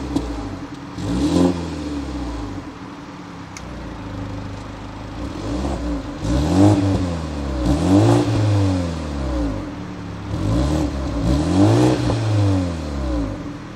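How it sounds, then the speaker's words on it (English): A BMW 2 Series compact sport coupe with a four-cylinder turbo revs up repeatedly through twin exhaust tips, several rising and falling engine sweeps heard close and loud with no talking. "twin polished exhaust tips that, for a 4-cylinder turbo, actually don't sound as bad as you might think"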